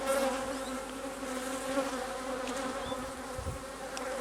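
Honey bees drone steadily around an open hive while a super is added, a dense continuous buzz close by with individual bees passing near.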